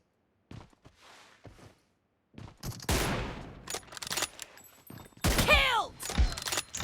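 Gunfire from the PUBG Mobile video game, a sniper room challenge with M24 rifles: several sharp shots and rapid bursts with ringing tails and clattering impacts, loud and close, with brief quiet stretches between volleys.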